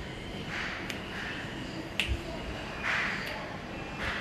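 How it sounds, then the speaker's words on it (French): A single crisp finger snap rings out in a quiet room, followed by a few fainter snaps spaced unevenly, each a short sharp click with no talking. "Il y a un claquement de doigts comme ça."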